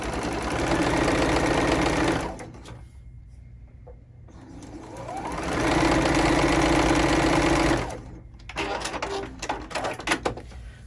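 A sewing machine stitches a row of quilt pieces in two long, steady bursts of rapid whirring, each lasting several seconds, separated by brief pauses and handling noises; the sound is close and fairly loud with no talking.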